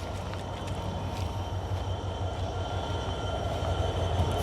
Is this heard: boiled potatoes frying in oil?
no